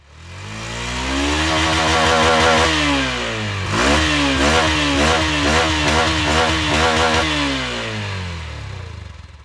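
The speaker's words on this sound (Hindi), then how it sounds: "तो चलिए चलाकर देख लेते हैं इस मोटरसाइकिल को" A Hero Xtreme 160R Stealth Edition motorcycle engine revs up close, climbing in pitch through the gears with a loud, sustained roar that shifts and rises again.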